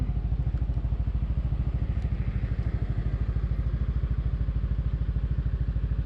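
Motorcycle carrying a rider and passenger, its engine running in a fast, even putter throughout, close and loud, with wind rushing past and no talk.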